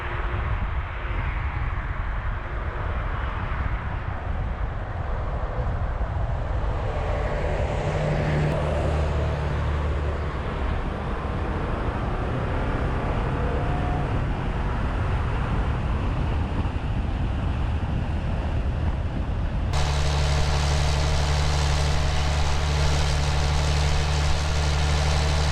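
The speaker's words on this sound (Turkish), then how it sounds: "Araçtaki sesi de, aracın çekişini de bir görelim hep beraber." Setra S 411 HD Topclass VIP coach engine pulling away and accelerating, a continuous low rumble heard from inside the cabin with road noise and rising drive tones.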